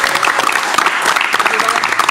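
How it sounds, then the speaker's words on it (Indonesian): Crowd applause at a motorbike giveaway event, dense steady clapping from a gathered audience filling the whole moment, with voices mixed in underneath. "Sekali kita tepuk tangan lah."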